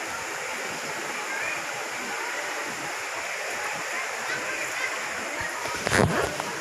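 Mayahay Falls pours in a constant broad rushing roar of falling water, steady and fairly close, with a brief splash near the end.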